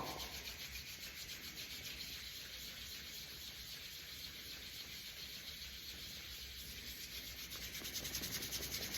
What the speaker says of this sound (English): We're going to rub the whole palm.